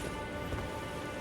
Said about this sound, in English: It's pouring with rain here.